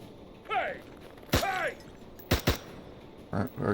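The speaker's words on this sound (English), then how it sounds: "we're already taking a couple of shots through windows there" Scattered gunshots from the Door Kickers 2 tactical game, fired through windows in a night-time firefight: a few sharp isolated cracks spaced irregularly, with a soft mechanical click before them and no talk over them.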